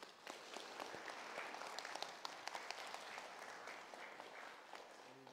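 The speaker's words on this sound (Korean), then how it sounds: "여러분 박수 한번 쳐드리시고요." An audience at a forum lecture hall claps together, a steady, fairly faint patter of many hands with a few sharper claps, heard from a distance without talk over it.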